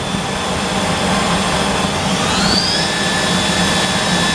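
Spindle of a Kiwa KH 4500 machining center with Lang fixturing spinning up to high RPM, a loud steady whine over broadband machine hiss, with a rising tone sweeping up midway.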